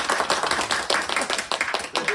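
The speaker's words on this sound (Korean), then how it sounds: "이 부분을 우리가 박수 한번 치고 넘어갈까요?" A small classroom group claps in a loose, uneven rhythm of sharp, close hand claps, moderately quiet, with no talk over it.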